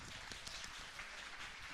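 A church congregation applauds steadily at a Sunday worship service during a spring evangelism festival, a dense, soft patter of clapping heard from a distance with no voices over it.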